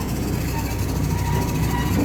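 An amusement park train rolls along steadily with a low engine rumble and faint rail noise, continuous and moderately close, with no one talking.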